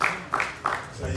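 A church congregation claps in a few loose, scattered bursts at a praise service, with a voice or two audible faintly in between.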